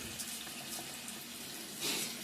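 Hot water gushes steadily from a sink tap in a brief, close, continuous rush of splashing flow.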